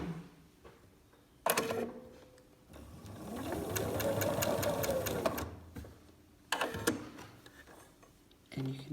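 A sewing machine sews a short test stitch after cleaning, whirring rhythmically for about three seconds, with sharp clunks from handling the machine before and after the run.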